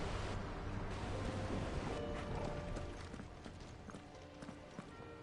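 Hooves of a six-legged horse clop in the Final Fantasy XVI video game, a quiet rapid stream of footfalls with some mechanical clatter, fading slightly toward the end.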